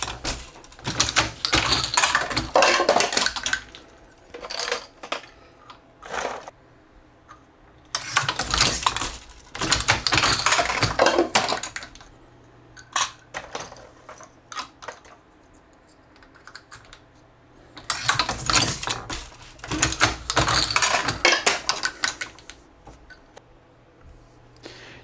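A handle-operated Hornady 366 shotshell reloading press loading 12 gauge shells, mounted on a doubled plywood subplate on a bench, gives off three bursts of close mechanical clatter and clicking, with scattered lighter clicks between the strokes.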